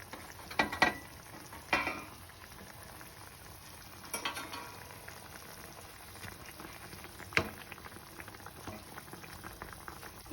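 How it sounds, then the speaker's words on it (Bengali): Boal fish curry gravy boiling in a pan, a low bubbling simmer broken by a few sharp clinks and stirring knocks. "ঝোলটা খুব ভালোভাবে ফুটে উঠেছে"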